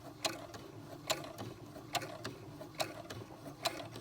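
An SC400 sewing machine stitching a fabric border onto a cloth diaper burp rag, a quiet mechanical whir with regular ticking needle strokes repeating about every second, close and faint.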